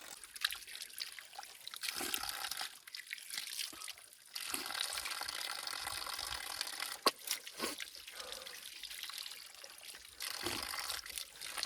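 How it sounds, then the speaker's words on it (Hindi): Ice-cold spring water trickles and splashes steadily from the ground at a winter campsite, a continuous close bubbling flow with brief pauses and small splashes, no talking. "ये पानी है, ये यहीं पे पीछे जमीन से निकल रहा है।"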